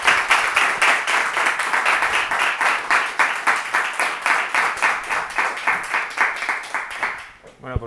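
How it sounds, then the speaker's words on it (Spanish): Audience applause for Professor Rayo at a talk on the economic and legal problems of a 100% reserve requirement, steady rhythmic group clapping that fades near the end. "Solo les pido un fuerte aplauso para el profesor Rayo"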